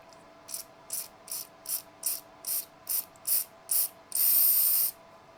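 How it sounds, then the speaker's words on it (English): Quick hissing bursts from a spray can of lubricant on an old Philips radio, about nine short evenly spaced puffs, then one longer sustained spray, close by. "give that a good spray"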